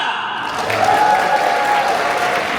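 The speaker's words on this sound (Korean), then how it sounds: "여러분들, 마지막으로 에블바디 다 같이 박수 한번 발사!" Wedding guests applauding together at a ceremony, a loud, dense wash of clapping from the whole crowd that holds steady throughout, with some voices mixed in.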